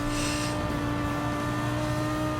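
Ferrari and Lamborghini race cars in the Gran Turismo 7 racing game, with a steady engine drone and sustained tonal whine held close and loud throughout, and no talking.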